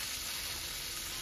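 Eggplant and potato fry in hot oil in a home kitchen as ground cumin goes in, a steady faint sizzle and hiss running evenly throughout with no talk.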